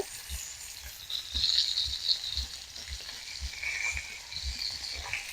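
Rohu fish pieces frying in hot mustard oil produce a bright, continuous crackling sizzle, with soft, regular low knocks running underneath.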